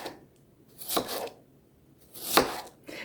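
A knife slicing potatoes into quarter-inch slices on a board, two distinct close cuts separated by quiet pauses.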